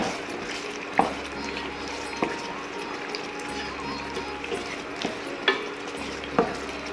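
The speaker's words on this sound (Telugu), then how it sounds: "కొంచెం కొత్తిమీర వేసిన తర్వాత మంచిగా కలుపుకోవాలి." A spoon stirs gongura chicken curry with coriander and coriander powder in a pan, giving soft continuous scraping over a low sizzle, with a few sharper clinks of the spoon against the pan's rim at irregular intervals.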